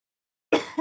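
A single short, sharp cough, close and fairly loud, made by a man who has been doing an exaggerated imitation of a ranting radio host, with a quieter second burst trailing right after.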